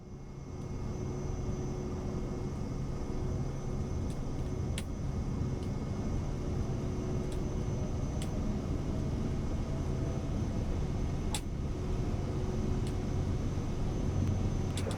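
A Cirrus Vision Jet engine runs at takeoff power in a flight simulator, a steady, loud jet roar with a sustained whine and a few sharp clicks on top, no voices.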